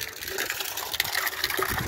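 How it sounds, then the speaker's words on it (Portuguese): Water from a pump gushes steadily into a drum, a dense continuous rushing and splashing that holds at an even loud level throughout. "Começou a encher agora o tambor."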